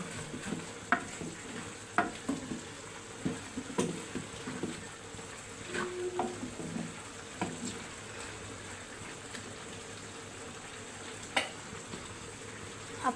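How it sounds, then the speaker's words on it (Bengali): Pumpkin fries with prawns in a pan, giving a soft steady sizzle at low volume, with repeated stirring scrapes and utensil taps spread through the clip. "চিংড়ি মাছ দিই কদু ভাজি।"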